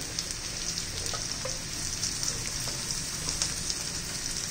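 Onion and spring onion greens fry in a pan for soybean chilli, giving a steady, close, hissing sizzle with faint crackles and occasional stirring.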